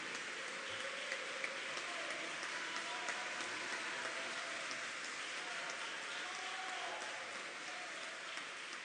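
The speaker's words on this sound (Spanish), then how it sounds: "Aquí hay una verdadera guerra de aplausos." Faint, distant applause from an audience at the end of a talk, a steady patter of many hands that sounds almost like rain, holding even and quiet throughout.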